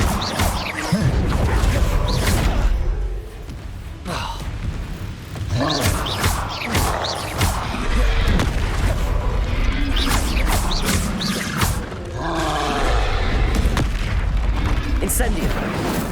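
Spellcasting effects in Hogwarts Legacy, Incendio fire blasts and Arresto Momentum, come as repeated booming, crashing impacts and bursts spread through the clip, loud and dense over game sound, with a voice speaking throughout.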